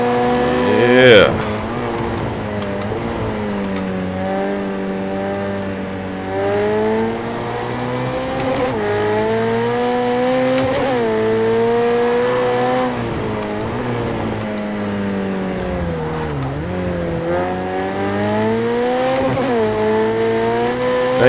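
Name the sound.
race car driving through curves in Project CARS 2 video game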